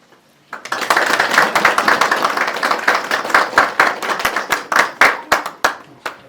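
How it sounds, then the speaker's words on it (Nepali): Guests at a church wedding break into applause, a dense burst of many hands clapping that starts abruptly, stays loud and close, then thins into scattered sharper claps as it winds down. "हामी सबैले ताली बजाएर"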